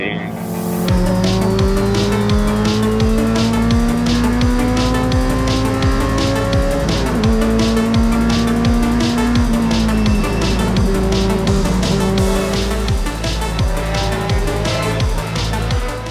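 A race car at full throttle on a restart, its engine roaring loudly and steadily with rising pitch sweeps through gear changes, while tires squeal in the pack of cars surrounding it.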